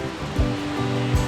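Ice cold waterfall in a valley, a steady close rush of falling water with low thumps and tonal hum layered over it.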